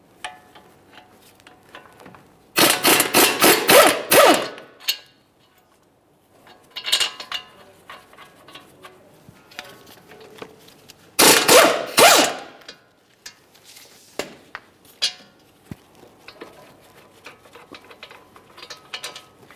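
Mechanical ratcheting from a hand tool working the lower mounting bolt on a front brake caliper of a 2011-2021 Jeep Grand Cherokee, heard as two loud bursts of rapid clicks with quieter scattered clinks and taps between them.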